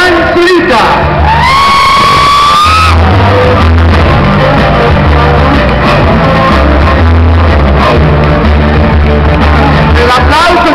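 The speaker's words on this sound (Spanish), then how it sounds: "vamos a recibir con un fuerte aplauso a Sebastián Zurita." A crowd at a star-walk honoring ceremony cheers, whoops and shouts loudly and continuously as a guest arrives. A voice speaks near the start before the wall of crowd noise takes over.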